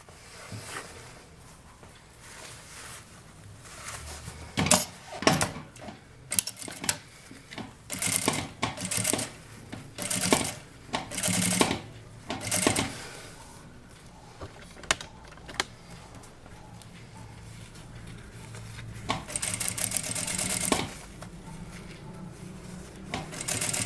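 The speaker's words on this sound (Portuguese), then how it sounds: "nós vamos passar a costurinha assim, ó, em toda a volta" A sewing machine stitches bias binding around the curved edge of a fabric slipper, its close, rapid whirring coming in short bursts separated by brief pauses as the work is turned.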